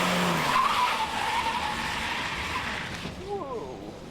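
A Saab car brakes hard at the Saab Aero Academy, tires skidding in a long sustained screech that fades out, followed by faint voices.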